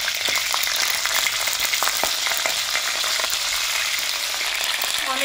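Tender cauliflower florets hit hot oil in a pan of khichdi, setting off a loud, steady sizzle with scattered stirring scrapes and no talk.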